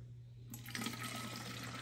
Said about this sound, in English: then you're just going to pour it into your container.